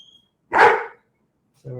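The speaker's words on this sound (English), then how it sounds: "So we're just going to pause, let him bark." A single close, loud dog bark lasting about half a second, followed by silence before a voice starts speaking.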